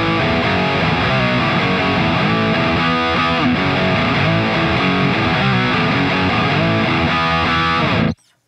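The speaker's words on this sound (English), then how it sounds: "it's just power chords mostly, but it goes like this." A heavily distorted electric guitar chugs through a dense power chord riff, loud and continuous, with no voice, stopping abruptly at the end.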